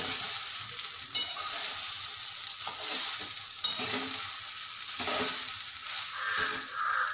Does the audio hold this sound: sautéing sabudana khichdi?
yes